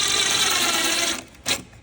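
A power screwdriver drives screws into a cabin pressure unit mounted on a roof, giving a steady, close whirring buzz for over a second that then stops, followed by one short burst.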